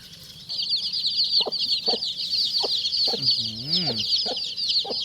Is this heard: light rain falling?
no